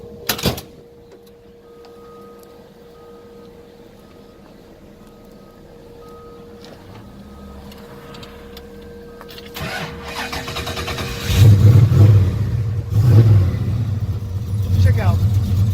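A 1967 Shelby GT350 Turbo Black Edition cranks and fires up, settling into a low idle before loud, deep revs swell and fall away, with a person talking faintly during the idle.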